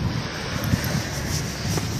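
Steady wind gusting outdoors on a chilly, rainy day, a continuous broadband rush with low buffeting rumble against the microphone, no voices.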